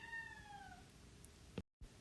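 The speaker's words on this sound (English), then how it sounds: "And you heard him, apparently my cat agrees." A house cat meows once, a drawn-out descending cry heard faintly and a little distant in a quiet room, followed by a soft bump.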